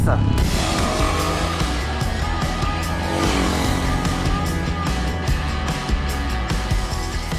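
A 2019 SWM Outlaw 500 Gran Milano motorcycle engine rumbles loud and close through its twin exhaust while riding, with rising and falling revs as a rider talks over it.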